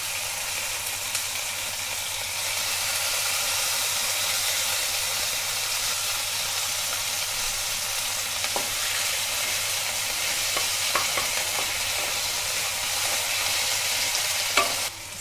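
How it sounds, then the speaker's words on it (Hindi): Tomatoes added to frying onions in a pan sizzle with a strong, continuous close hiss, while a spoon stirs with occasional scraping clicks throughout, no one speaking. "अब हम डाल देंगे इसमें टमाटर। तो टमाटर डाल देंगे,"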